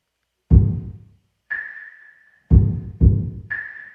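Punchy percussion is squeezed by an API 2500 compressor on a light smack setting, with deep booming hits and bright sine-like pings in a sparse, uneven rhythm, each decaying quickly into silence.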